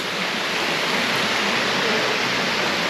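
Steady broadband rush of a private waterfall at Balete Lagoon, a continuous close roar of falling water with no breaks and no voices.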